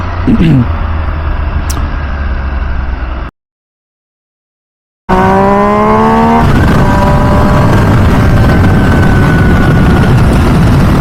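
A 2023 MV Agusta Dragster 800RR SCS motorcycle engine revs hard and close, pitch climbing in sweeps, then cuts to a short silence before another strong rising rev.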